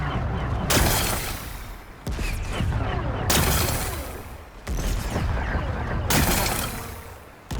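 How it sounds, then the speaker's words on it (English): Heavy explosive blasts clear away rocks to expose a power cell in Horizon Forbidden West, coming as four or five loud booming bursts, each with a crackling rumble that fades before the next one. "Gotta blast away some rocks, so I can expose the power cell"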